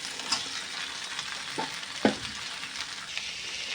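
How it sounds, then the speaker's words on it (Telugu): Onions tossed into a hot pan crackle in a steady, close sizzle, with a few soft scraping stirs in between. "ఇంకా ఇప్పుడైతే ఫస్ట్ ఆనియన్స్ వేసేద్దాం."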